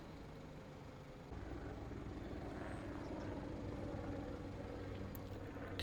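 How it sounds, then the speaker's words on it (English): Faint, steady drone of a helicopter flying overhead in Farming Simulator 25, a low continuous rotor and engine hum that thickens slightly after the first second and stays even to the end. "Can hear a helicopter."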